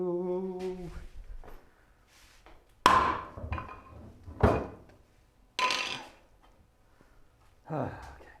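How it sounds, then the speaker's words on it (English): Hammer blows while building a Moxon woodworking vise, a few sharp, loud knocks spaced a couple of seconds apart, with voices and a harmonic hum early on. "we can start hammering away now"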